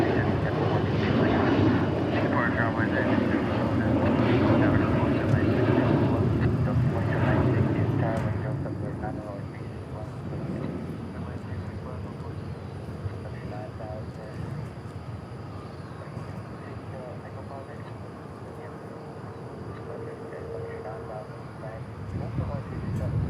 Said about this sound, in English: Here's our next departure in E175.